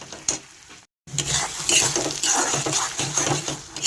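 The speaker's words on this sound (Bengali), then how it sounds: "দেখুন তেলে আমি এগুলোকে ভালো করে নেড়ে দিচ্ছি, যতক্ষণ না বাড়তি জলটুকু মরে যায়।" Young cauliflower leaves stirred in hot oil give a steady, close sizzle with scraping stir strokes throughout, broken by one brief silent gap near the start.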